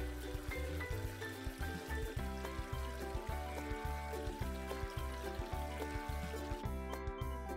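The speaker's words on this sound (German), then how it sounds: "wir lassen für die drei das Wasser in die Badewanne ein" Water running into a bathtub as it fills, a steady pouring rush with a regular pulsing beat layered over background music, continuing evenly until it cuts off near the end.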